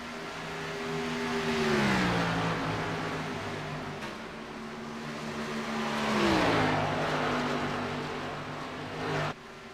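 Race cars run around the Texas track in a racing league event, engines swelling as two cars approach and pass in turn, their pitch sliding down before fading out.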